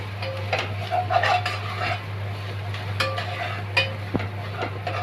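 Ginger garlic paste sautéed in a pan for dal khichdi, with a soft continuous sizzle under repeated scraping and clinking of a spoon against the metal, steady and close, plus a constant low hum in the background.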